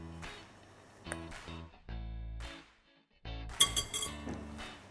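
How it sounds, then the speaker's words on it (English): Sugar and potato starch being mixed in a bowl with light clinks and scrapes of utensil against the bowl in a few separate bursts, close and moderately quiet. "I'm gonna mix all the dry ingredients together, the sugar, the potato starch"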